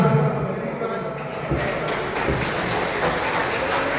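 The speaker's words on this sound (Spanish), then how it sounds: "un aplauso fuerte para la Felipa" An audience applauds Felipa's graduation at a live P'urhepecha music event, a thick continuous wash of clapping that swells after a moment, with voices talking underneath.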